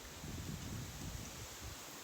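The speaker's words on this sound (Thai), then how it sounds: "โอ้ลมพัดเย็นสบายมากเลยนะครับผม" Soft, steady wind blows across an outdoor microphone with a faint low rumble and gentle gusting, no voices.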